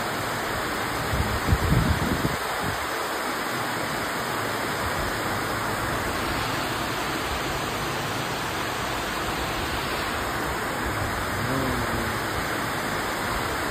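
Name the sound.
rain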